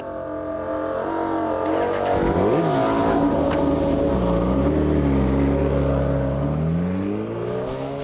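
A racing motorcycle engine brakes hard into a corner during a MotoAmerica race, its loud, steady drone dropping and wavering in pitch as the revs fall, heard close with no talk.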